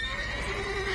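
A horse whinnies from The Witcher 3 video game, a mare's sustained neigh over a steady background bed, heard alone for about a second.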